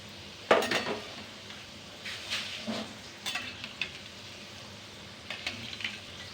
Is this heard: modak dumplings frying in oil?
yes